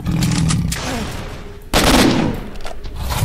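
Gunfire in Stalker: Shadow of Chernobyl crackles loudly in rapid bursts, with a sharp heavy blast near the middle followed by more shooting and clattering action.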